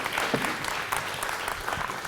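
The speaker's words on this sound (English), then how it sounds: "You guys want to give a round of applause and thank them?" Audience applause at a church service, a steady wash of many hands clapping together, moderately loud and continuous for about two seconds with no talk over it.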